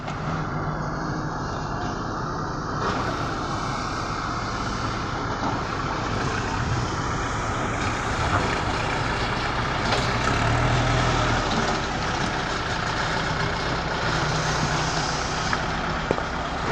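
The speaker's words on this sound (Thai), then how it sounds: "ทั้งรถไถทั้งแมคโครครับ" Heavy diesel engines of a tractor and an excavator rumble steadily and loudly throughout, a continuous droning of working machinery with slight shifts in intensity and no voices.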